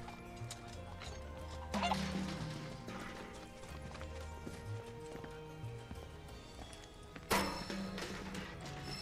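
Chicken clucking in the Final Fantasy VII game amid a busy backdrop of rhythmic clip-clopping footsteps and ambient game sound, with two louder sudden bursts.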